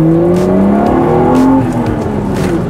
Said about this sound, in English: the sound of this engine and exhaust combo are just so musical